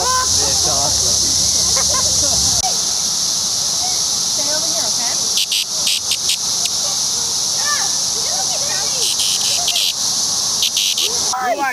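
A loud, dense chorus of cicadas drones steadily outdoors, a continuous high buzzing that fills the air throughout, with some rhythmic pulsing and faint background noises beneath.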